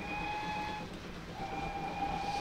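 A GWR 48/14/58xx steam locomotive in Train Simulator 2016 gives two short whistle blasts with a brief gap between them, set over steady engine rumble.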